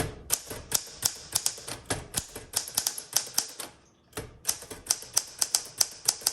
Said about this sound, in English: This is a nice, confident typewriter.